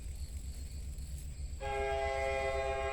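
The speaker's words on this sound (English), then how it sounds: "Oh, of course, here's my train." Train horn blaring loudly and steadily from a passing train near a flower garden, starting partway through over a low rumble of the rails.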